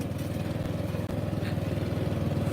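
A Stiga ST 600 Twin ride-on lawn mower's engine runs steadily up close, a continuous loud drone with a throbbing pulse and one momentary dip partway through.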